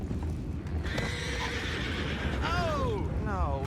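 A horse in Red Dead Redemption 2 gives two clear descending whinnies, one in the middle and a shorter one near the end, over steady low background rumble and clip-clop.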